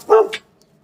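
A neighbor's dog gives a single short, loud bark up close, followed by a quick fainter yip, then near silence in an outdoor garden setting.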